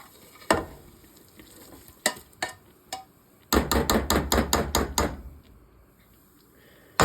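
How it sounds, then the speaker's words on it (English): Fried bigos ingredients for Polish hunter's stew tipped and scraped from a pan into a large pot of stock, giving a few sharp knocks followed by a quick burst of rapid clattering scrapes, then quiet, with a faint sizzle underneath. "I'm just going to transfer them over to the pot with the stock"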